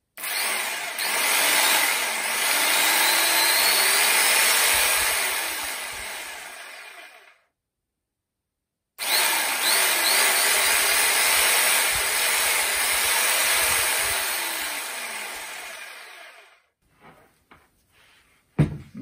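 A DCA AMQ65 electric jigsaw with no speed regulation runs loud and steady with a whining motor for about seven seconds, stops, then runs again for another stretch before switching off, with a few clicks at the end.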